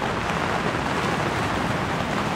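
Dense, steady downpour roaring without pause at a campsite, a broad hiss of heavy rain close by with no voices.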